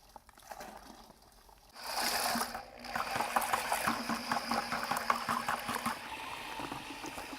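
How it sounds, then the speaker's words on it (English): Dry mortar mix pours into a bucket of water for mixing, a rushing, splashing wash beginning after a quiet start, then an irregular run of sloshing and bubbling at moderate volume. "now you hold the drill, and I'm going to add the mortar mix to the water"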